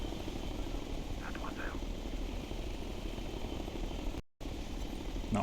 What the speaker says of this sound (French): Je vois un hélico ennemi.